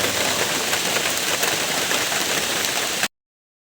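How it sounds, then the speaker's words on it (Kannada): Heavy rain pours down steadily outdoors at Nisargadhama near Kushalnagar, a dense, loud hiss of water that cuts off abruptly into silence near the end. "ನೋಡಿ ಫುಲ್ಲು ಮಳೆಯಲ್ಲಿ ಸಿಗಾಕೊಬಿಟ್ಟಿದ್ದೆ"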